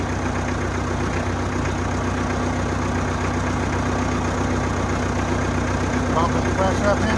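A small engine on a 60-gallon Fimco boom sprayer idling steadily with a constant low rumble and hum, heard close under occasional talk.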